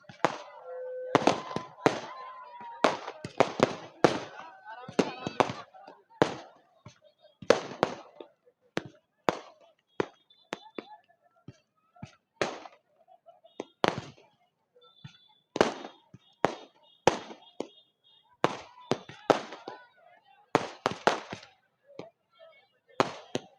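Dussehra fireworks bursting after the Ravan effigy burning at a Ramlila celebration, a long irregular string of sharp cracks and pops at varying distances, with voices audible between the bangs.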